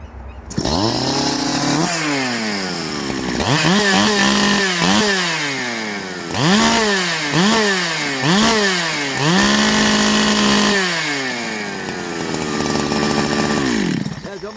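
A Husqvarna 365XP Special chainsaw revs loudly and close, its engine repeatedly climbing and dropping in pitch through a run of rhythmic throttle blips before settling toward idle.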